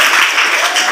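An audience applauds at a madrasa speech contest after a score is announced, giving dense, steady clapping that fills the room and sounds close and loud.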